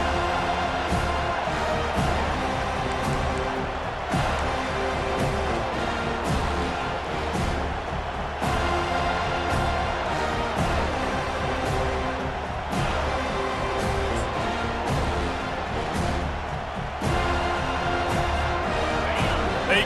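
A stadium crowd at a college football game between FSU and Notre Dame roars continuously, a broad wash of cheering that swells and dips, while a commentator talks over it.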